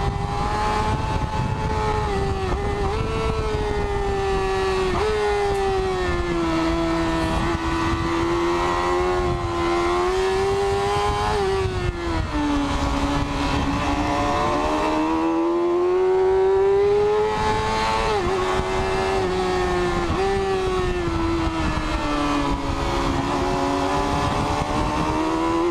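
A 600cc sport motorcycle at the Nurburgring screams at high revs, its loud, sustained engine note rising and falling through gear changes for the full stretch, with no voices.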